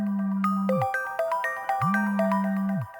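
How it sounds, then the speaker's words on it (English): A phone rings with an incoming call: two sustained low buzzing pulses bracket a bright melodic ringtone of repeating chimes, close and loud, with no voices. "As he moved closer, his phone buzzed."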